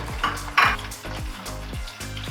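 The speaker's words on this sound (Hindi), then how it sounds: "इसमें हम तड़के के लिए ये मसाला डाल देते हैं" Spices dropped into lightly heated oil for a tadka while making besan kadhi: a soft, steady frying crackle with a brief burst of sizzle as the spices hit, plus low clinks from the pan.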